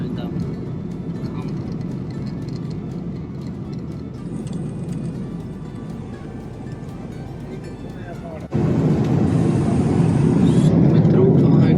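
Steady low roar of an aircraft cabin in flight on a passenger jet from India to Canada, a constant broadband rumble that grows louder partway through, with a person talking over it.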